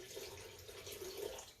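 Distilled white vinegar poured into the water of a pressure canner, a brief steady liquid trickle and splash lasting under two seconds, close and fairly quiet with no talking.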